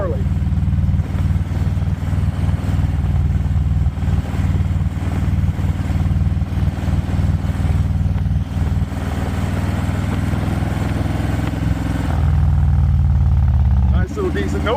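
A Harley-Davidson Low Rider ST motorcycle burbles while being ridden. Its deep, loud, steady engine rumble is heard close up with wind noise and light clatter, and a brief lower shift in tone comes near the end.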